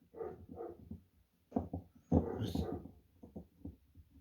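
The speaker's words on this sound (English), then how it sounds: "Hope my dogs ain't being too loud." Dogs whimper and whine in short, uneven bursts close by indoors, with a few breathy yips and muffled growly sounds between pauses.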